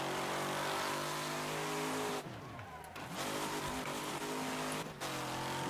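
A race car engine in Wreckfest downshifting to third, a loud sustained roar that drops away abruptly, rises again, then dips briefly, with faint tire noise and no talking.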